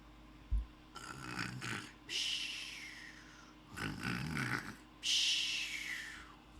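A voice imitates snoring with three drawn-out rasping snores, each a long nasal inhale, separated by short quiet gaps, close and fairly soft.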